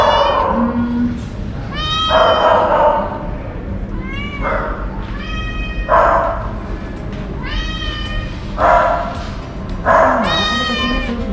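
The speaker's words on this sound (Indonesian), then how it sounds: "Di sini ada beberapa kucing." Several cats meow in a veterinary treatment room where a cat is being brought for eye surgery, with repeated clear, fairly close meows recurring every couple of seconds over a murmuring room background.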